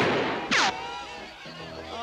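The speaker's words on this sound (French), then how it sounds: "Et maintenant, le concours de tir. Chacun tire une seule fois." Single gunshot at a shooting contest in a cartoon Western town, one sharp crack with a ringing tail, following a voice and fading into faint background sound.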